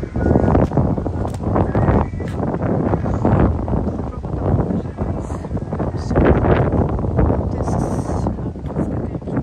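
Strong wind from a sudden cold front gusting hard against the microphone, a continuous loud roaring rumble with buffeting surges throughout.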